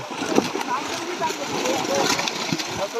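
Silver carp and pangas fish being tipped into a fish-farm pond, irregular splashing and watery gurgles close by while people talk throughout.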